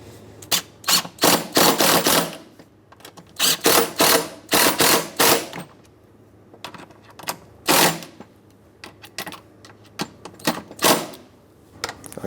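Ratchet clicking in repeated bursts while T30 Torx-head bolts are driven into the intake manifold of a 2003-2009 Dodge Ram 2500 with the 5.7L V8, close and crisp with short pauses between runs.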